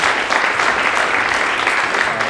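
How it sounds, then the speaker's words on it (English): A seminar audience gives a steady burst of applause, a dense wash of many hands clapping at once, fairly loud and close throughout. "Give them a round of applause."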